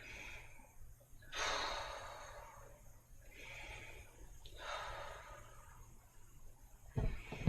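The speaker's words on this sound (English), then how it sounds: "Take lots of nice big deep breaths from your belly." Slow, deep belly breaths taken during a standing leg-raise core exercise, heard close up as a few long, airy inhales and exhales spaced several seconds apart.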